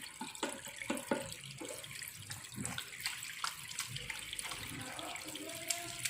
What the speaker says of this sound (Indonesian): Cukupkan air mengalir